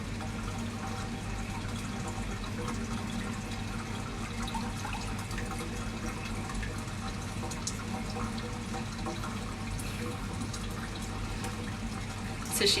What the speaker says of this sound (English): I'm getting a little bit splashed over here.